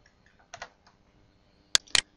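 Keyboard shortcut keys on a computer running MIDI editing software are pressed in a few sharp, close clicks: a soft pair early on, then two crisp, louder taps near the end, in a quiet room.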